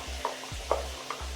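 Ground coconut paste going into a boiling anjal (seer fish) head and tail curry, with a steady low bubbling simmer and three soft wet plops or scrapes spaced across the moment, no talking.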